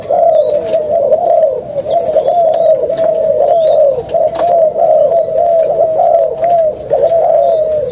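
A pair of Malaysian zebra doves cooing close by, with loud repeated trilling coos in a steady rhythm and a few faint higher chirps in the background.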